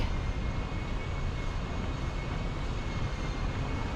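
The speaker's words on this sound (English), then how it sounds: "all cobbled streets which make for very noisy traffic" Noisy traffic rolls over the cobbled streets of Zagreb's upper town, a steady, fairly faint broadband roar that runs without a break and with no voices on top.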